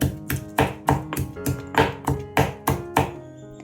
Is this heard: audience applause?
no